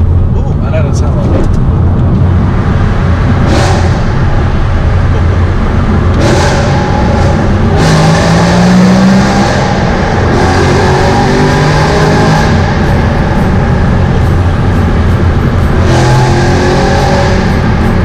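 A BMW M3 engine revs hard toward the red line during a drive, with repeated loud rising pulls and gear-change drops over road noise, while a person talks.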